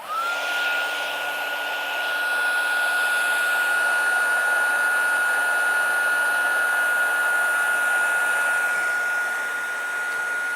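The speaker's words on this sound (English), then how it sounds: "I just stamped that egg with the embossing powder, and we'll just heat it." An embossing heat tool blows steadily on embossing powder stamped onto an egg, a loud, even whirring hum with a high whine that holds for about nine seconds before easing slightly near the end.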